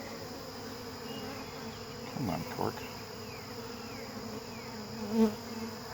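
Honey bees buzz steadily around a hive box being installed, a dense close insect drone with a couple of brief louder passes near the microphone, while people talk briefly.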